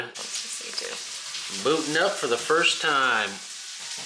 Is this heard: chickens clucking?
no